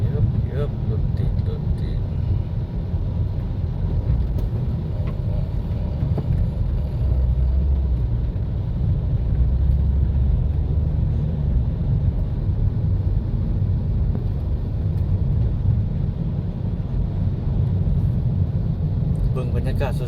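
Steady low rumble of busy traffic near a university district in Laos, motorbikes and cars crawling in a jam beside a row of new and used motorcycle shops, continuous and fairly loud with a voice talking now and then.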